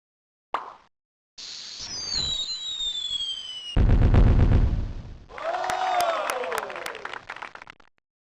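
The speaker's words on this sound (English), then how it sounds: "Launch the fraction firework that's less." Cartoon fraction fireworks launch and burst in the 1996 PC math game Mighty Math Number Heroes: a short pop, a rising whistling swoop, then a loud booming blast and a crackling, sparkling burst that fades out.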